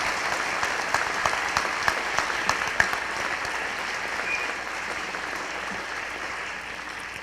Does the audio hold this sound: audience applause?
yes